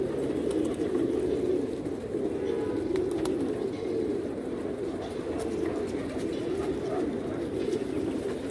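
A flock of pigeons coos steadily at a loft, a dense, continuous murmur of low cooing holding at an even level throughout, with no distinct wingbeats of landing standing out.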